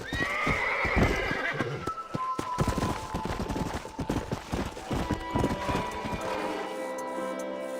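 Horse in Red Dead Redemption galloping with rapid, close clip-clop hoofbeats and a loud neigh near the start, the steady hoof rhythm continuing throughout.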